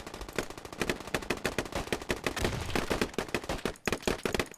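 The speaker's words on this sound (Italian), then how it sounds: "si stanno sparando a caso per fare suppression fire" Dense, rapid bursts of automatic gunfire and scattered single shots from a forest war video game, suppression fire crackling continuously and loudly with barely a pause throughout.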